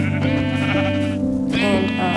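Sheep in Minecraft bleat loudly and close up, with a wavering, nasal cry lasting the whole moment and no talking over it.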